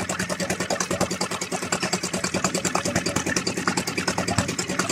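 A new 2022 Suzuki DF6 outboard motor runs steadily just after a pull start with the choke on, a close, loud, fast regular putter throughout.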